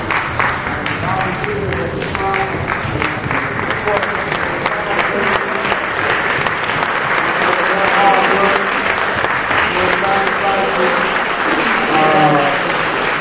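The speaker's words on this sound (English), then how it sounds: "Would you mind standing and giving these people a round of applause?" Steady, sustained applause from a large crowd at a village trustee debate in Matteson fills the whole stretch. Voices and cheers are mixed in underneath.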